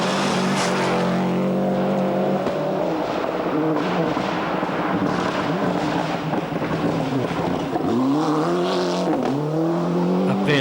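Rally cars at the 1996 Rally Australia race along a stage, engines revving and shifting through rising and falling tones, heard steadily at moderate distance with faint talk underneath.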